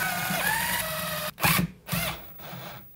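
A power driver runs bolts into a 300RR motorcycle clutch cover in short whirring bursts, starting and stopping several times close by.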